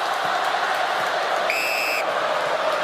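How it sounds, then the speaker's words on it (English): Collingwood supporters chant in a huge stadium crowd at an AFL match, a steady distant roar of many voices throughout, with a brief high whistle-like tone partway through. "The Collingwood chant goes up."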